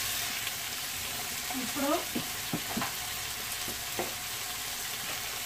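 Vegetables for a biryani fry in a pan with a steady, fairly soft sizzle, broken by a few light scrapes and knocks as they are moved, while a voice speaks briefly.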